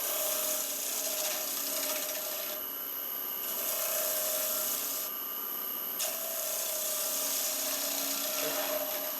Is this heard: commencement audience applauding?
no